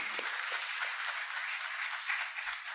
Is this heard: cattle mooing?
no